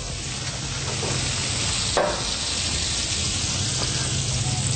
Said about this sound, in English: Now we have this beautifully grilled New York steak.